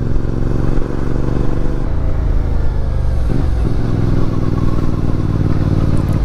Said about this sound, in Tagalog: may mga dumadaan din na nakasingle na motor